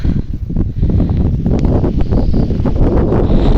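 Steady cold outdoor wind rushing and buffeting continuously, with a broad low roar and some rustling, loud and close throughout.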